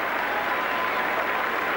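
A rugby league crowd at a 1990 Kangaroo Tour match between St Helens and Australia applauds a try with dense, steady clapping and cheering that fills the air evenly throughout.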